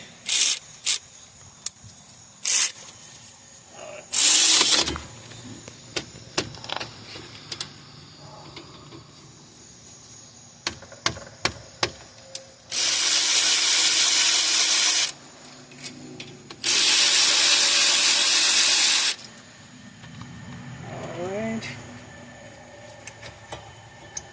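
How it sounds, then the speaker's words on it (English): A ratchet and hand tools work loose the 14mm caliper bracket bolts during a brake pad and rotor job on a 2016 Hyundai Tucson. Scattered clicks and clanks are broken up by a few long, loud bursts of a power tool in a garage. "we have to remove these two 14mm bolt for holding a caliper bracket"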